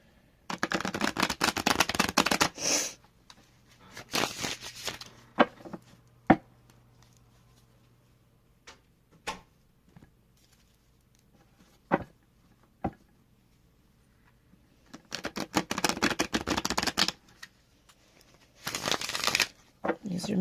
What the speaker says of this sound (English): So I'm still going to pull 7 cards.